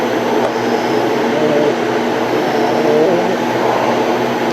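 A GSEICE soft serve ice cream machine runs on first use, giving a constant loud motor hum and whir that holds steady throughout with no breaks.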